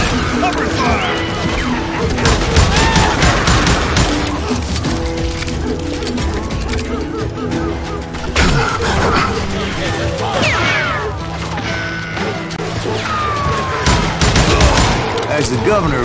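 Gunfire in the Western shooter Call of Juarez Gunslinger, loud repeated shots and crashing impacts in dense volleys across the whole stretch, with brief lulls, under shouted voices and musical score.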